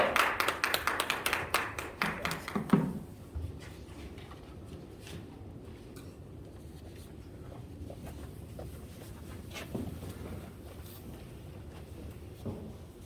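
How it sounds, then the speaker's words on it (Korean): A church congregation at a prayer meeting in Hoengseong claps warmly to welcome a pastor to the front: a lively burst of hand claps for about three seconds, then it drops away to the quiet hum of the sanctuary. "우리 박연호 목사님 나오실 때 뜨거운 박수로 한번 모시도록 하겠습니다"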